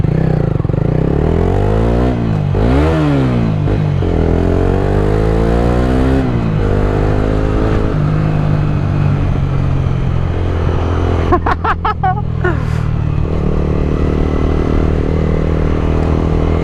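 A motorcycle ridden past a police checkpoint, its engine loud and close throughout, revving up and down in repeated rising and falling sweeps, with a brief clatter near the end.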